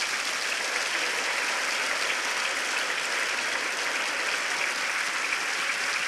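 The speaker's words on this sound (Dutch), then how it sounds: "groot applaus hier in het nieuwe theater in de stad Luxemburg voor de zeven man van het Zwarte Theater" Large theatre audience in Luxembourg City gives sustained, dense applause to the seven-member Black Theatre of Prague after their interval act at the 1984 Eurovision Song Contest; steady, loud clapping throughout with no speech.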